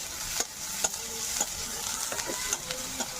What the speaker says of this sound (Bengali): দিয়ে আর একটু আমি ভাজা ভাজা করে নেব।